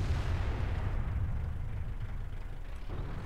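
Tank cannon fire from the FV215b in World of Tanks, a heavy deep rumbling boom that stays loud and sustained across the whole moment with no talk over it.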